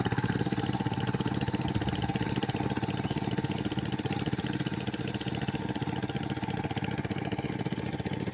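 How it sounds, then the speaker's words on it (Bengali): A wheeled power tiller ploughs a muddy, grassy field, its steady mid-pitched engine chugging loudly and continuously throughout, with no talk. "চাকা লাগানোর পরে চাষ হচ্ছে"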